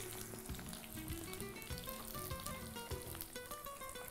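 Onion, mustard seeds and curry leaves are sautéed in a hot pan, giving a faint, steady sizzle with occasional stirring clinks under quiet background music.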